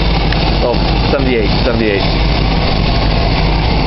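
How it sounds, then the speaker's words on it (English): A 1978 Chrysler Cordoba's 360 V8 with a four-barrel carburetor runs at a steady idle, a constant low hum close by, while someone speaks briefly over it. "Here's a demonstration of how well this engine runs."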